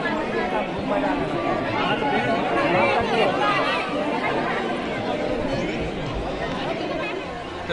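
Pilgrims thronging Mahakaleshwar temple in Ujjain fill the air with continuous close crowd babble, many voices blending into a dense, constant hubbub at a steady level.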